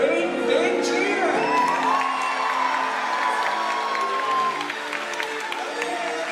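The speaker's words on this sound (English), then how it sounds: "Okay, when True does this jump, let's all give him a great big cheer." Audience at a SeaWorld Orca Encounter killer whale show cheering, whooping and applauding for an orca's big jump, a loud sustained roar of many voices with children's shouts rising through it, fading slightly near the end.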